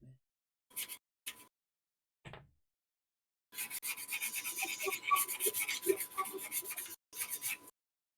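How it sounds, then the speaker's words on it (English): Short, dry scraping strokes cleaning excess glue off a model helicopter come in a few brief bursts, then a longer run of rapid rasping, close and quiet. "I'm just cleaning some excess glue off, that's all."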